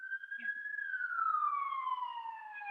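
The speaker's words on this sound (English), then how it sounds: "I hear an ambulance." An ambulance siren sounds as a single clear, loud wail that holds its pitch briefly and then slides steadily downward as the vehicle passes.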